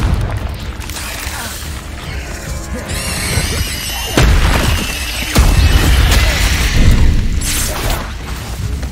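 Confringo explosive spell in Hogwarts Legacy combat, several heavy booming blasts with crashing impacts and crackling magic, loud and close, hitting in quick succession amid other spell effects.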